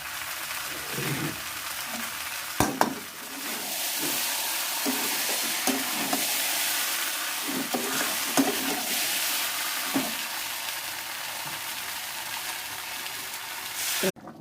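Potatoes for alur dam frying and being stirred in a spiced masala, a steady close sizzle with scraping spoon clatters and knocks throughout, a sharp clack near the end.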